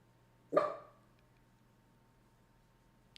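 A single sharp bark from a dog staying with a sitter for the weekend rings out once, fairly close, then fades into quiet room hush with a faint tap at the end.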